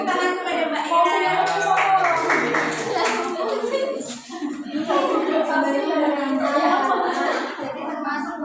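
Classroom applause for a student named Ira during a micro-teaching lesson, a steady patter of clapping from many hands with children's voices chattering over it throughout.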